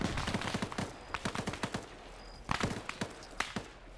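Gunfire in the military shooter Arma 3, with rapid bursts of shots in clusters and scattered single cracks, some near and sharp, others more distant, with no talking.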